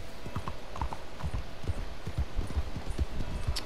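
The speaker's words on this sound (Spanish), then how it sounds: "Vamos a montar a caballo mejor." Horse hooves clip-clopping steadily at a riding pace in the Red Dead Redemption 2 video game, a close rhythmic stream of hollow thuds, heard alone without talking.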